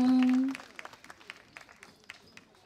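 A sustained sung note fades out and a live audience at a concert gives light, scattered applause for a performer, with sparse individual claps at moderate distance.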